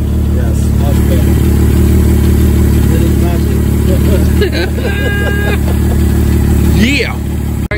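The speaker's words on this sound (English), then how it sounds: "So he's got to go get another intake manifold or repair this one, but it's idling smooth now." A BMW M5 engine idles steadily and smoothly after an intake manifold repair, a continuous low hum close by with people talking over it throughout.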